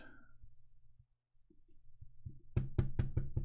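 A computer mouse clicks quietly at first with a few scattered taps, then closes on a quick run of about six sharp, louder clicks close by.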